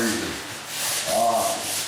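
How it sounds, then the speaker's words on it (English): Rough back-and-forth scraping of a sanding block rubbing a drywall surface, close up, in a couple of steady strokes. "As you're sanding your nail holes, don't neglect to hit the entire wall."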